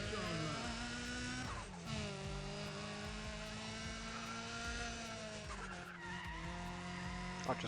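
Tires squeal in long wavering skids as an engine whines and shifts pitch in the racing game NFS ProStreet, a continuous moderately loud screech with brief drops in tone.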